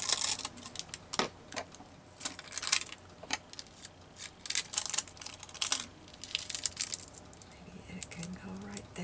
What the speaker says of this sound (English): give it a little bit of a cut. Get rid of those wrinkled edges.